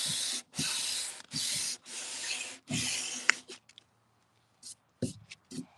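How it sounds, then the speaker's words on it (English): Hand sanding with 180 grit sandpaper gives five rhythmic, close rasping strokes, then a pause broken by a few brief scuffs and taps. "180 grit sandpaper"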